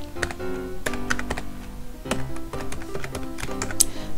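Computer keyboard keys typed on in a Hangul word processor, a quick run of crisp, close clicks and taps in an uneven rhythm, heard alone without talk.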